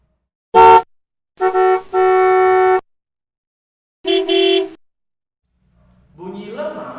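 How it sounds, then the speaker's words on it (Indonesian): A car horn honks several times, a short blast followed by longer sustained honks and another short one, loud and close, then a softer tonal sound at the end. "Dan klakson mobil."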